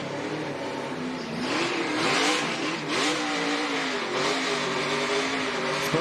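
An ARCA Menards Series race car does a burnout on the start-finish line at Charlotte Motor Speedway, with a loud sustained engine roar and revs rising and falling over a broad tire-smoke hiss, heard fairly close.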